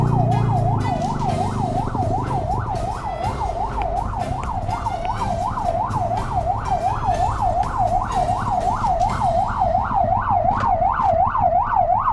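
An emergency vehicle siren that is not an ambulance's wails loud and close in a fast, regular up-and-down cycle, sustained throughout over a road-noise background.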